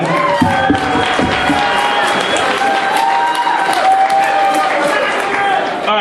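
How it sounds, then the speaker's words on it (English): Wedding guests give a round of applause and cheers for Tom Kalizak, a loud sustained burst of clapping with whoops and crowd voices mixed in throughout. "So, round of applause for Tom Kalizak."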